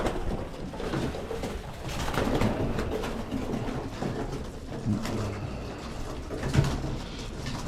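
White pigeons in a small coop give soft, low cooing calls that repeat amid rustling and scuffling, all close and fairly quiet.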